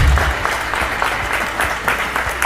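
Loud, dense applause from an audience at a stage event, steady clapping filling the whole moment without speech over it.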